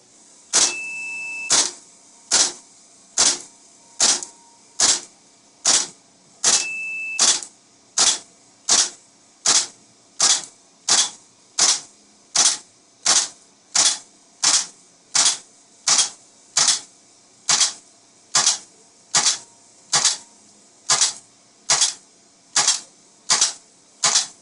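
A GHK AK74 gas blowback airsoft rifle fires a long string of about thirty evenly spaced, sharp, loud semi-automatic shots at a steady rhythm, close to the microphone, with no talking.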